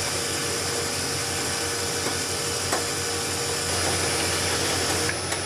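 A metal lathe spinning at 500 RPM on a light finishing pass while turning an ER-32 tailstock chuck, giving a steady, continuous mechanical whir with a few faint ticks and no pauses.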